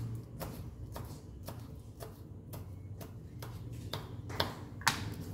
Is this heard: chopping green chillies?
yes